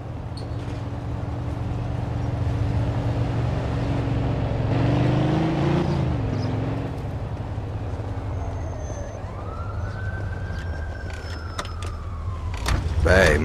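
A car in Mafia 2 drives along with a steady engine rumble that swells and dips midway. A rising whine and scattered clicks follow near the end, with voices talking over it.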